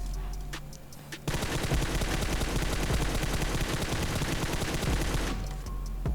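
M4 assault rifle fire in PUBG Mobile: a sustained, loud automatic burst of rapid shots lasting about four seconds, starting abruptly and cutting off, with quieter game ambience before and after.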